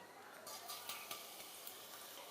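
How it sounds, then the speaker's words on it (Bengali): Black cumin seeds sizzling in leftover hot oil from frying fish, a soft steady hiss with a few light scraping taps of a utensil in the pan. "এবার তেলের মধ্যে আমি কালো জিরে ফোড়ন দিয়ে দিচ্ছি"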